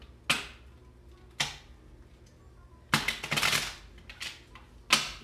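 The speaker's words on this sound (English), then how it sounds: "Shuffle these cards one more time." Several sharp riffling bursts of tarot cards being shuffled, spaced irregularly with quiet gaps, including a longer flurry in the middle.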